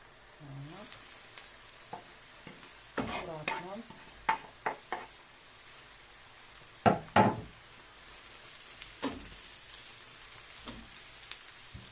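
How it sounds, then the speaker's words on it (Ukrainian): Shredded cabbage is tipped into a pan of browning onion in oil, bringing a soft sizzle with scattered knocks and scraping stirs from a spoon against the pan. The pan sounds close and fairly quiet. "Ми до цієї цибульки даємо цю капусточку"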